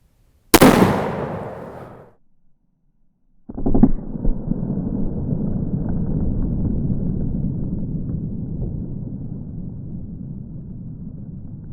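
A 50 caliber CVA muzzleloader fires a 385 grain Hornady conical bullet without patch or wad: one sharp, loud blast that decays over about a second and a half, then silence, then a long rumbling rush of outdoor wind noise.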